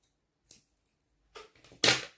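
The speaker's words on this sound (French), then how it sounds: "Je vais couper." Scissors snip through embroidery thread in a quiet room, a few short sharp clicks with gaps between, the last cut the loudest and closest.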